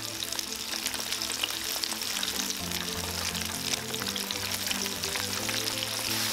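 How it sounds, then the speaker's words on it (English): Shrimp deep frying in hot oil, a steady, dense sizzle and bubbling that holds at an even level throughout, close and loud, with no voices. "We're gonna fry them until golden."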